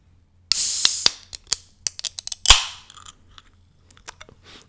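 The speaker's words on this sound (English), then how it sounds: "we gotta do the Pepsi Mango ASMR with AJ Eats." A can of Pepsi Mango soda cracks open with a sharp snap and a brief fizzing hiss, followed by a second pop-and-hiss and scattered small crackles and taps, close and otherwise quiet.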